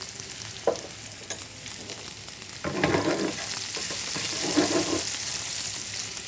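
Onions fry in a pan with a pinch of salt. A continuous sizzle rises and swells, and intermittent stirring scrapes run through it. No voices are heard.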